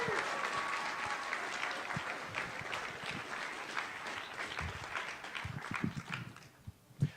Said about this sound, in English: Can we give a big round of applause for our fencers today?